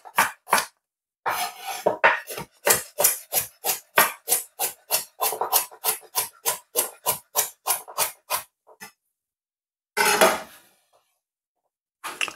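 A knife chops carrots and ginger steadily on a cutting board, rapid regular knocks in bursts with brief pauses, close and crisp, no talking.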